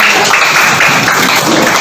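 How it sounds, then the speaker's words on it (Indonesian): Elementary school classroom applause, loud, close and continuous, many small hands clapping in a dense unbroken patter for the whole stretch. "Tepuk tangan untuk kita semuanya."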